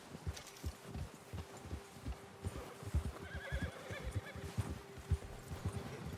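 A horse in the Red Dead Redemption 2 video game neighs and whinnies over steady clip-clopping hooves, moderately close, with a faint tonal hum running underneath.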